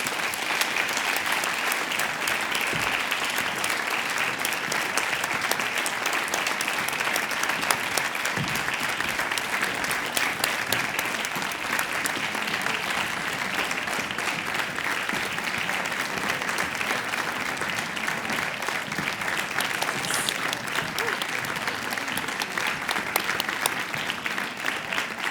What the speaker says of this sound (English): so we can properly applaud them as they so richly deserve.